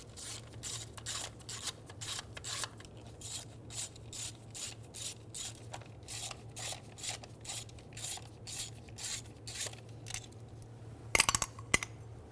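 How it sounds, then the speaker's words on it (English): A ratchet wrench clicks in a steady rhythm of about two strokes per second, loosening 8mm coil pack bolts on a 2000-2007 Ford Focus, close up, ending with a few sharp metallic clinks. "Remove the 8mm bolts for the coil packs."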